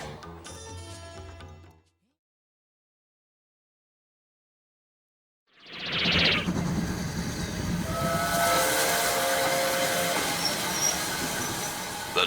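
Steam train whistle and departing locomotive, starting after a silent gap with a sharp burst, then a loud sustained chuffing rumble with a long whistle tone riding over it.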